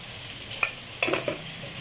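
Chickpeas sautéing in a pan with a pinch of homemade garam masala, with a few short spoon scrapes and stirs over a soft sizzle, close and fairly quiet.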